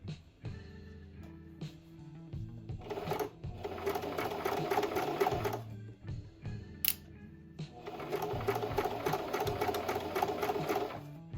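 Sewing machine stitching a lovey blanket of minky and faux fur, running in two long bursts of steady rapid whirring with a pause between while the fabric is pivoted with the needle down.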